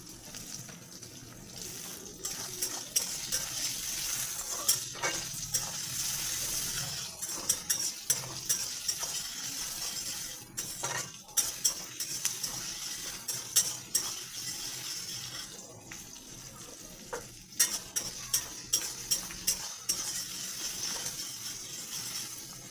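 Tomatoes frying in a pan for chicken curry, stirred with repeated utensil scrapes and clanks over a steady sizzle, with water-like hiss throughout; no talking.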